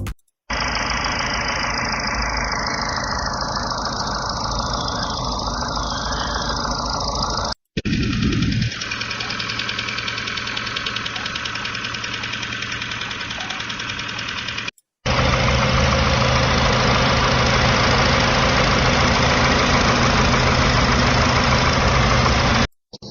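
A Hyundai 2.5T car engine idles with a suspected fault, giving a steady, close, continuous hum with a rough knocking edge. It is heard in three stretches separated by brief cuts, with no talking.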